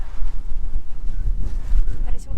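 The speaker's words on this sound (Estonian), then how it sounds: "Päris suur tuul on." Strong wind buffets the microphone outdoors, a loud, gusting low rumble that rises and falls throughout, with speech faintly underneath.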